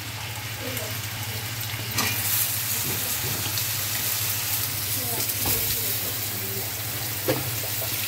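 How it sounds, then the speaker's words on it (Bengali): Steady sizzling of vegetables frying in oil in a wok, with occasional stirring scrapes and a low constant hum in the background. "কড়াতে জিরে ফোড়ন দিয়ে সর্ষের তেল দিয়ে আলু ভাজা বসিয়েছি"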